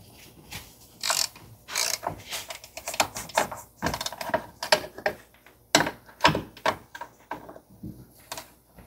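A hand ratchet clicks in quick, uneven bursts while loosening the master cylinder fasteners on a 1973 Camaro, close and crisp with short pauses between strokes.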